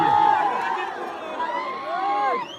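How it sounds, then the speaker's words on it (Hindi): A stage show crowd in Uttar Pradesh cheers and shouts loudly and continuously, with whoops and voices rising over a dense, sustained roar of audience noise. "तो एक बार जोरदार तालियां सम्मान के साथ बजा दीजिए"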